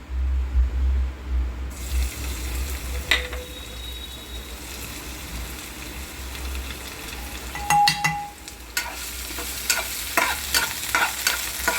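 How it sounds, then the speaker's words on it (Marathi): Butter and ginger-garlic paste sizzle in hot oil for pav bhaji, a steady frying hiss with stirring clatter and brief water-like bursts. "तेल गरम झालं की त्यामध्ये बटर आणि हे टाकायचं पहिला अद्रक लसणाची पेस्ट टाकायची"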